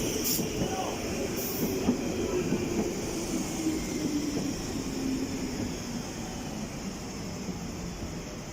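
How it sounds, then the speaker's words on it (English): A westbound London Underground train pulls into Hanger Lane station with a sustained loud rumble of wheels on rails, faint squeals and a steady rolling roar lasting several seconds, with no talking over it. "incoming now is the westbound train going to West Ruislip"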